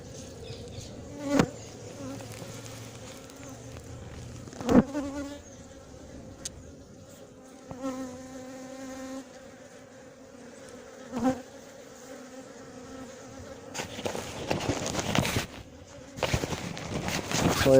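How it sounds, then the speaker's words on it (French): Honeybees from a queenless colony circle close around a beekeeper, individual buzzes swelling and fading as they pass near the ear, with sharp knocks, quiet stretches and gusts of wind noise toward the end. "il y a des abeilles qui me jaugent là, qui me tournent autour sans me piquer"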